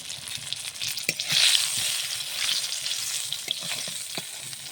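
Eggplant slices frying in a pan give off a steady, close sizzle with occasional soft stirring clicks and scrapes, staying fairly even in loudness throughout.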